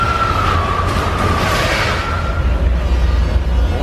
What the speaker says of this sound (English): we have a train headed straight for us